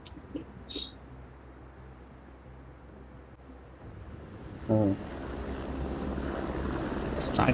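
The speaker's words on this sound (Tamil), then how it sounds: "ஸ்டார்டிங்கே ஒரு ஹெலிகாப்டர் வருது கைஸ்" A helicopter in the Hitman World of Assassination video game, a steady rotor drone that swells louder midway and holds near under background talk.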